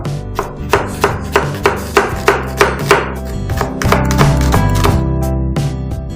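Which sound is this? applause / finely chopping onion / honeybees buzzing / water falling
finely chopping onion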